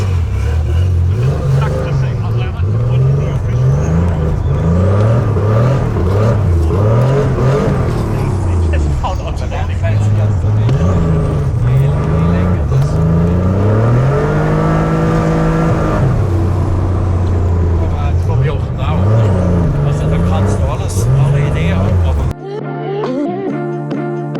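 A Porsche 930 Turbo at an ice race pulls away under hard acceleration. Its engine note climbs repeatedly through the gears, then holds a sustained high rev before dropping off abruptly near the end.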